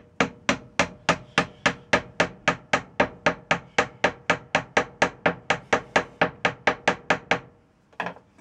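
A sand casting pattern is tapped with the end of a screwdriver in a rapid, even series of about twenty-five sharp, close knocks, followed by a brief pause and one final tap.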